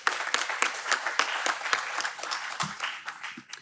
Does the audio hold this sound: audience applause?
yes